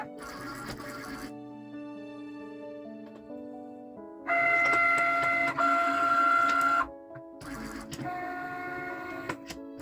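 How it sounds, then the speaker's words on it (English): A Cricut cutting machine scores cardstock on a mat with a scoring stylus, producing steady motor whirring and high electronic whines in several stop-start passes, louder in the middle stretch, with no voices. "I'll put my scoring stylus here and insert the mat with the cardstock, and let's go."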